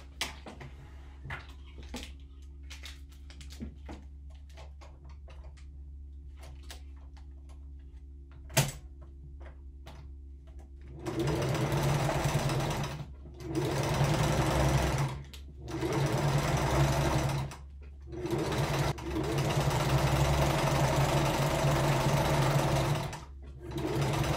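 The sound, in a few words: sewing machine sewing dog food bag tote sides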